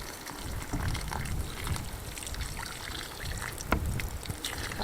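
Water trickles and gushes gently onto dry, freshly sown soil from a watering can, a soft continuous pour with small splashes, close by and with no talking.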